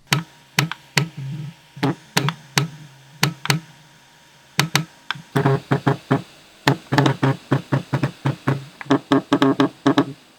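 Game controller rumble motors rattling against a tabletop, giving sharp irregular clicks and knocks in quick bursts and runs, close and fairly loud, with brief pauses between clusters and no talking.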